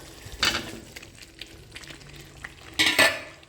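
Potatoes are stirred and sautéed in a pan of spiced masala for a vegetarian aloo dum, under a low steady sizzle. Two louder bursts of scraping and clattering mark the stirring. The sound is close and there is no speech.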